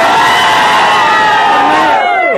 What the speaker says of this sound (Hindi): यहाँ पर देख सकते हैं कितना युवा की भीड़ है